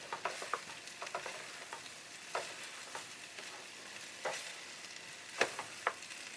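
Vegetable pasta being stirred and mixed in a pan, with soft scattered scraping and clinking of a utensil against the pan over a faint sizzle, irregular taps spread through the stretch, no talking.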